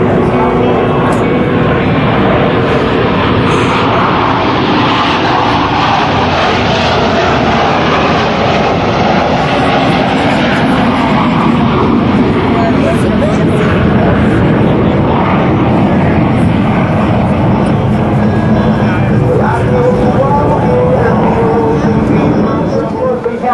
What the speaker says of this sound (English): both aircraft are in that carrier landing configuration as they approach for a maneuver